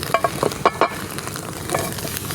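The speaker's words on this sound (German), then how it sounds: "Einmal wenden wir das noch auf die heiße Pfanne." Medieval-style scrambled eggs sizzle in a hot pan, with a few sharp scraping stirs and turning sounds near the start over a constant close frying hiss.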